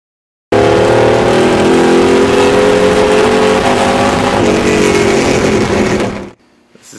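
A 632 cubic inch big block Chevy street engine with 9.5 to 1 compression revs hard and loud from start to finish, a dense, sustained roar that cuts off abruptly at the end.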